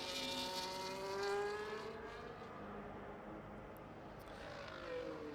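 A race car engine in a racing video game, heard on board around the tight, twisty Hungary track: a steady high whine that rises and falls through the gears, fairly faint and alone.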